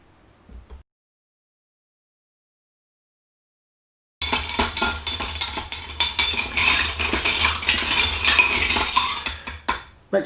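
Gin, orange juice and a squeeze of lime being mixed in a glass, with steady clinking and stirring of metal against glass that starts after a silent pause and continues close and busy.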